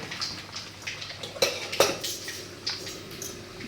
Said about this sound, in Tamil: நான் உப்பு கொஞ்சமாக சேர்த்துட்டு நல்லா மிக்ஸ் பண்ணிக்கிறேன்